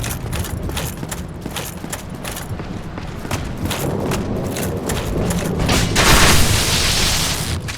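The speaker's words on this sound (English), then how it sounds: "You fire 3 bolts in quick succession." Rapid volleys of crossbow bolts fired in quick succession in Dark Souls, sharp repeated thuds and impacts layered over dense, continuous game noise that swells louder toward the end.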